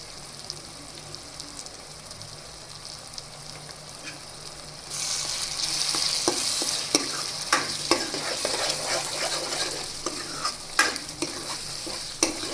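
Onion, tomato and red chili powder for a Gujarati leftover-roti dish are stirred in a frying pan. A quiet sizzle swells into louder frying, with repeated scraping knocks of the spoon.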